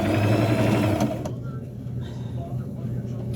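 A sewing machine stitching two sheer skirt panels together for a burial gown runs steadily and loud for about a second, then stops, leaving a quieter stretch where a voice talks.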